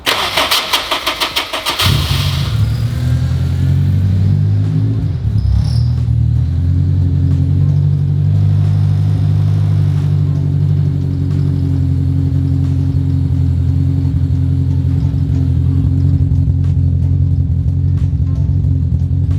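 A Honda S2000 with a suspected blown head gasket starts up after a short cranking burst, then settles into a loud, steady, rumbling idle close by that continues for a long stretch.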